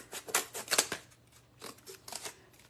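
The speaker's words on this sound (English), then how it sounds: "if I wanted just to cut this out" Scissors snip through thick cardboard beneath glue gun art in a few quick, quiet, close cuts, two bursts of crisp crunching separated by a brief pause.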